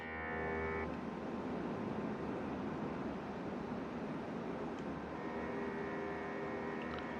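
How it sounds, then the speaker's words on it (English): An IndiGo A320 airliner's engines in Microsoft Flight Simulator 2024 produce a steady, dense roar with a faint tonal whine at the start and end, continuous and fairly quiet throughout, with no voices. "these engine sounds are just awesome"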